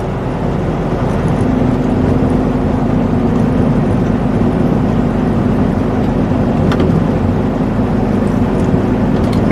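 Steady, loud road noise inside a truck cab while driving on highways, a continuous low rumble of engine and tires with occasional faint knocks from bumps, no talking.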